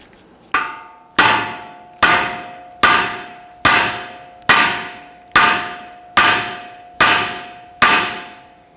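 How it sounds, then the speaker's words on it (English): A hammer strikes the steering knuckle of a 2011-2023 Dodge Charger to release the tie rod end, ten loud, close metallic blows at a steady pace of about one per second, each ringing briefly before the next. "We're going to use our hammer to strike the knuckle right here to release our tie rod end."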